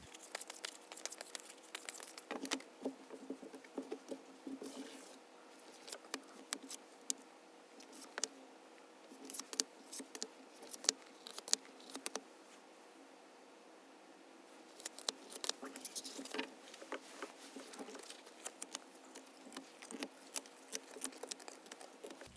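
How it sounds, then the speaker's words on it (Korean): Tarot cards being shuffled by hand, a long run of soft, close, papery patter and light ticking slides with brief pauses, faint and steady throughout. "이번에는 연두색 유리알 뽑으신 분들의 카드부터 셔플 해볼게요"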